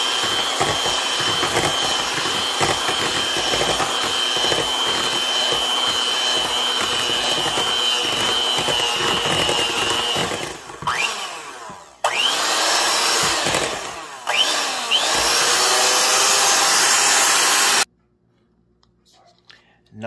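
Electric hand mixer beating banana bread batter with vanilla essence, a steady loud whirring drone lasting most of the way, briefly dipping and stopping twice before cutting off near the end.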